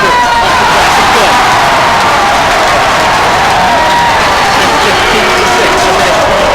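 A home crowd cheers and roars at a Glendale high school basketball game against Kickapoo, a loud, steady wall of voices with whoops and some clapping that holds for the whole stretch.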